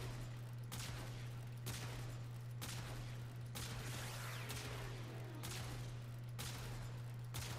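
A Ferrox AoE weapon in Warframe firing and exploding, a series of about seven sharp blasts at a steady rhythm, each followed by a short decaying rumble over a constant low hum.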